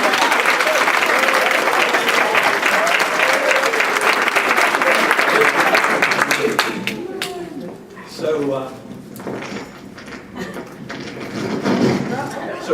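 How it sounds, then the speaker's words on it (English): Audience applause fills the room loudly for several seconds, then thins out into scattered claps and murmuring crowd noise as voices begin to speak. "Let's get another round of applause"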